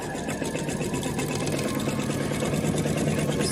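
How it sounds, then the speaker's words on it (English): Sewing machine stitching a quarter-inch seam on a Christmas tree table runner block, a fast even mechanical chatter that hums steadily up close without pause. "Just sew that 1/4 inch seam right there."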